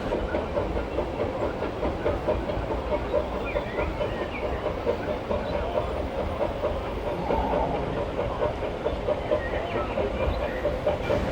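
A Disneyland Railroad train rolls past at the park, a steady low rumble with faint rhythmic clacking and hiss, carrying on evenly under a busy crowd murmur.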